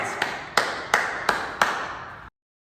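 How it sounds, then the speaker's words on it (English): Five sharp claps or taps at a steady rhythm after a workout half, close and fairly loud, each with a short ringing tail before an abrupt cut to silence. "Give yourself a round of applause"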